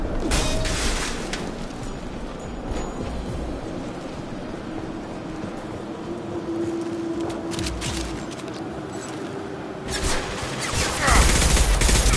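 Rapid gunfire bursts in the Mass Effect video game, a dense, loud barrage that runs throughout and swells near the end, with a voice speaking over the action.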